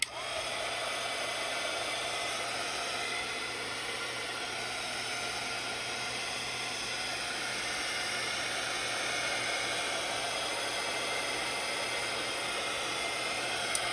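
A hair dryer blows steadily on a journal page, a constant close whooshing roar that holds unchanged throughout with no speech.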